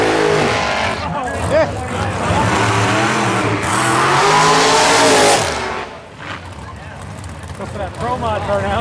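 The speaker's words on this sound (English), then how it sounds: "Pro mod burnout." A pro mod drag car with a big block Chevrolet engine and Turbo 400 transmission does a burnout at a drag strip, a loud sustained roaring engine with rising and falling revs and screeching tires, under a commentator's voice.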